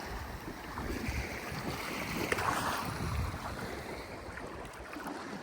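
Ocean waves roll in from two directions onto a beach, a soft continuous wash and hiss of surf with a gentle swell in the middle, heard with light wind and no voices.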